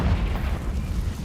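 A Confringo blasting spell explodes in the Hogwarts Legacy video game as a short, heavy, rumbling boom that fills the whole moment, loud and close, with no voices.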